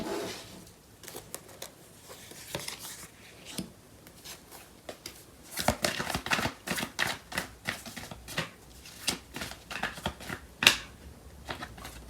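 Tarot cards being shuffled by hand: soft riffling and sliding at first, then a denser run of quick, crisp card flicks and taps, close and fairly quiet, with no talking.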